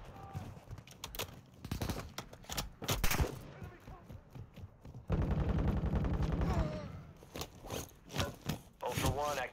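Bursts of automatic gunfire and rapid shots in Call of Duty Warzone 2.0 DMZ, loud and close, come in quick clusters with one sustained rattling volley near the middle, mixed with game voice lines.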